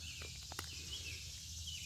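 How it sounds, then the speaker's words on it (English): Faint outdoor ambience by a creek with a steady high insect buzz, a few soft bird chirps and light taps, quiet and distant. "all you hear is bugs and birds"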